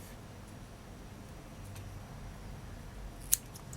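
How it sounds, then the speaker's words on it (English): Scissors trim a yarn end on a flower loom with one quick, faint snip near the end, heard over a quiet, hissy room with nothing else happening. "And trim the end."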